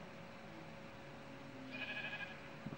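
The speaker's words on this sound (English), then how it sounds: "I should have four sheep." Sheep bleating in the video game Minecraft, a short bleat or two near the end rising over a steady hum of game background sound.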